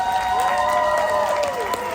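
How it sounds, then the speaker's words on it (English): An audience at a convention charity auction applauds in a dense, steady wash of clapping, with a few cheers or whistles rising through it across the whole moment. "Please give yourselves a huge round of applause."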